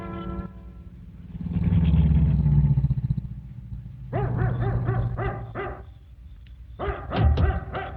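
In a radio drama, a dog barks in a quick burst of several sharp yaps, pauses, then barks again a few times, close by; a low rumble runs underneath early on.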